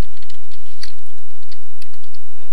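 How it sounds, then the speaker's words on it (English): Typing on a computer keyboard while setting up Unity 2020 on Ubuntu Linux: steady, quick key clicks in an irregular patter, close and clear with no voices. "type in your company"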